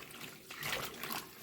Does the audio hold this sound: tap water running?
yes